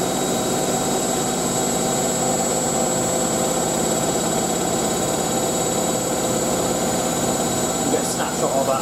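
Hotpoint 9530 washing machine on a towel wash, spinning at 1000 rpm with a steady, continuous whirring drone and a faint rhythmic thump, loud and close, with a brief knock near the end.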